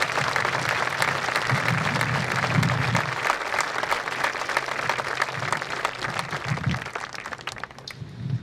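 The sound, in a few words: audience applause for graduates at graduation ceremony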